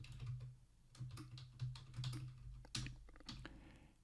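Fingers tap on a computer keyboard, a close series of light, irregular clicks and clacks with short pauses between bursts of keystrokes.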